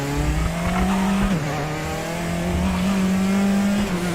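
A race car in the RaceRoom sim racing game braking late into a corner, its engine tone steady and loud, then dipping and recovering as the tyres lock up briefly, with continuous close drone and no talk.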